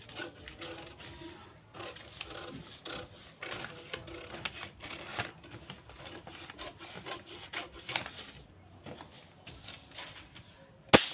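Scissors snip and slide through fabric while a katori blouse is cut out, a close run of short, scratchy cutting strokes at a moderate level with a sharp snap at the end.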